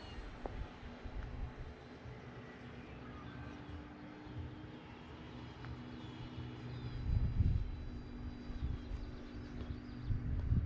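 A remote control airplane flies at dusk after taking off with flaps set, its engine a faint, distant drone that hums steadily with a slight swell in volume near the end.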